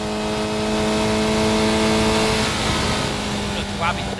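Historic Formula Ford 2000 race cars running flat out at Silverstone, a loud sustained engine drone at high revs that holds steady throughout.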